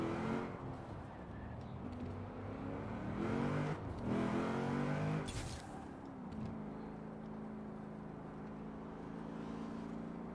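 A car engine cruising at low revs in Forza Horizon 4, heard from cockpit view, hums steadily with a brief rise in revs around the middle and a sharp shift or bump, then settles back to a level drone.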